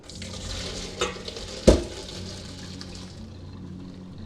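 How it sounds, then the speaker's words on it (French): Pasta water splashes and pours out into a colander in a brief gush, with a sharp slosh midway, then a quieter steady trickle draining away close by. "on va passer les pâtes dans la passoire"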